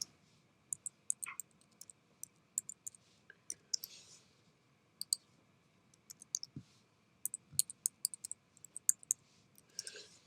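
Light plastic key clicks from a computer keyboard as a password is typed, arriving in short irregular bursts over a low steady room hum, fairly quiet and close.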